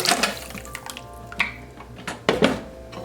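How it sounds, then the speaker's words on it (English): Water is poured into a pot of sopa de fideo, giving a few splashy pours and liquid sloshes with clinks of the pot between them, close and moderately loud, no speech. "So just add your water."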